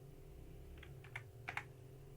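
Several keystrokes on a computer keyboard while a password is entered, a few light, quiet taps in two small clusters over a low steady hum.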